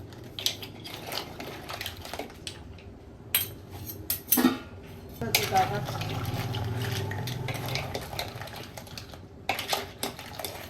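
Utensils clink and scrape against a pot while butter garlic mixed seafood with shrimp and sweet corn is stirred, irregular metallic knocks and clatter rising and falling close by, with brief voices in the background.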